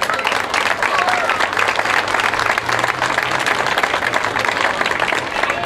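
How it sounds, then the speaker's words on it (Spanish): Sustained, dense applause from a crowd at a provincial artisans' fair in Rufino, loud and even throughout with a faint low hum beneath. "Gran aplauso, por favor."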